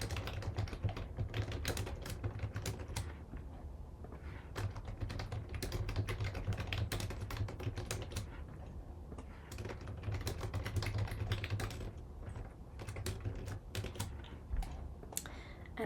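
Rapid, steady keyboard typing on a computer keyboard while editing a label in the Sitecore XM Cloud page builder, dense clicking keystrokes continuing for about sixteen seconds with brief pauses, close and fairly quiet.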